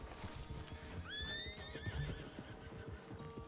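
Horses in a video game neigh once in a rising, quavering whinny amid the steady clip-clop of hooves, moderately loud with no one talking.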